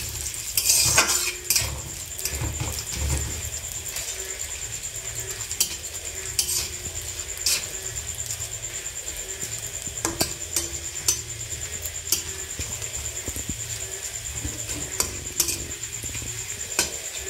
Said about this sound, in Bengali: এবারে কাজু কিশমিশগুলো ভেজে নেব।